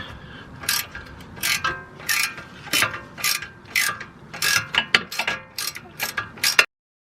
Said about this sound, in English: I have a ratcheting wrench.